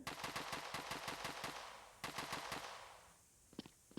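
Rapid automatic gunfire in a zombie shooter video game, loud bursts of fast shots for about three seconds, then a brief pause and a few separate single shots.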